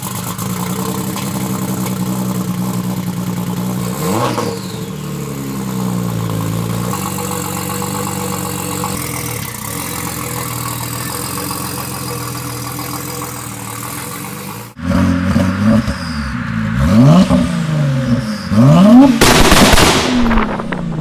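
An ethanol-tuned 750 HP sleeper car engine, built in a home garage, idles with a rough, uneven note, then bursts into loud, rising revs and sharp blips close by toward the end.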